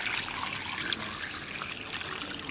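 Pork ribs rinsed under a running kitchen tap, a steady close trickle and splash of water continuing throughout without pause, fairly quiet, no talking.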